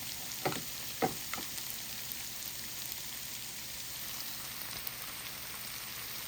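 Bagoong shrimp paste with tomatoes sizzling in a pan, a soft continuous fizz broken by a few sharp stirring clacks early on, quiet and close.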